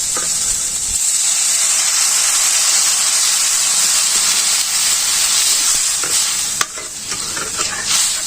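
Water poured into a hot pan of sizzling fish curry sets off a loud, steady rushing hiss of steam that carries on for several seconds, with one sharp knock near the end.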